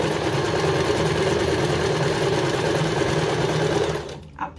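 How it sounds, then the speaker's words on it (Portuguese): A sewing machine runs steadily, stitching a straight seam across a placemat, its dense mechanical whir close and constant before stopping abruptly near the end. "E vou costurando reto."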